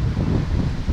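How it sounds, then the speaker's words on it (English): Wind gusts outdoors and buffets the microphone, making a low, continuous rumble that swells and dips over about a second, with no one speaking. "It's really windy."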